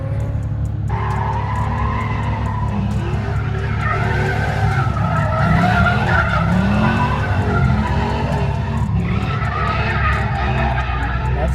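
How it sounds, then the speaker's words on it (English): Tires squeal and skid continuously as a car drifts around a drift track, engine roaring steadily underneath, loud and sustained throughout with the pitch of the squeal wavering as the car slides. "I guess he's drifting his car."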